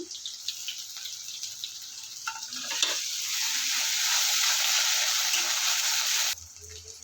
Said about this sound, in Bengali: তেল গরম হয়ে গিয়েছে, এখানে কেটে রাখা পেঁয়াজ ঝাল দিয়ে দেবো, আদা রসুন দিয়ে দেবো